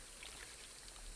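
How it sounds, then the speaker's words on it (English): A water splashdown effect in the video game Liminal Shift, a brief, steady hiss of splashing and trickling water, faint and without talking. "Also, that water splashdown effect. Sound effect and everything."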